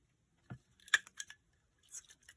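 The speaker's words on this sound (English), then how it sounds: "I'm going to cut a slot hole." A few quiet, close snips of scissors cutting a slot hole in paper for a journal tag, several short clicks spaced over two seconds in an otherwise silent room.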